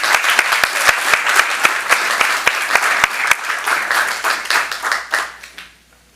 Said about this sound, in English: Another round of applause for everybody.